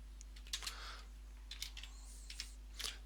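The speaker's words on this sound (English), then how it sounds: "I could just type their details in here" Keys tapped on a computer keyboard while entering customer details into invoicing software: a few short, soft bursts of clicks spaced about a second apart, faint against a low steady hum.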